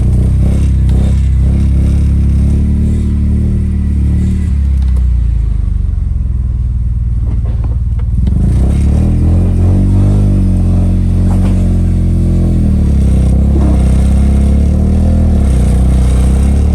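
A once-stolen car, bound for a racetrack road-race build, runs under its own power, its engine loud and close with a steady rumble, revs rising and falling, and a brief dip in intensity midway before it pulls strongly again.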